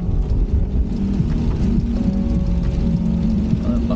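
Heavy rain falling during a taxi drive through the Batha market district, a steady loud wash of rain mixed with a low droning engine hum throughout, with no talking.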